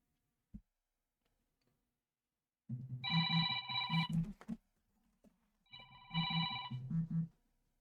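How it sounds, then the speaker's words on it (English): A telephone rings in two distinct bursts of trilling bell tones, each lasting about two seconds, separated by a gap of near silence, faint and a little distant, after a single click. "You probably heard that phone ringing."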